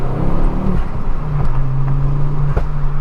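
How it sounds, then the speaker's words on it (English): A Mk2 Ford Focus RS with a non-resonated Scorpion exhaust drones loudly in third gear, broken by a couple of short, sharp exhaust bangs. "Nice little bang there in third gear."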